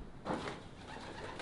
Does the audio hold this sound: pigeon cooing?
yes